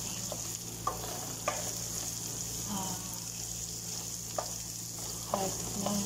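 Onions browning in a pan while being stirred, a steady sizzle with a few utensil scrapes and clicks, close by, and a faint hum behind it.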